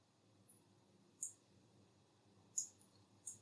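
A computer mouse gives three soft, separate clicks, with a gap between the first two, while a Visual Studio WinForms app is being edited. The clicks sound quiet and close over near silence.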